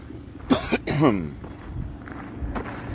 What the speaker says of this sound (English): Still coughing up phlegm.